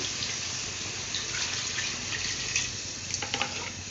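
Water pours in a steady stream into a pot of sambar with toor dal and vegetables, with a few splashes and drips near the end, close by and moderately loud.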